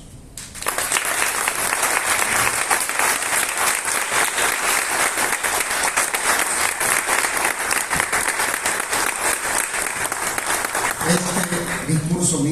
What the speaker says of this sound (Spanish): a quienes reconocemos con este aplauso